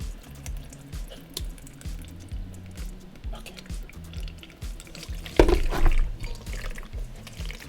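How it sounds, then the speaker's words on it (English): Wet paper pulp pressed through a fine mesh strainer, squishing and dripping in soft repeated pulses with a louder wet squeeze near the end, fairly close and quiet. "So I'm just going to gently press it down, squeeze some of that water out."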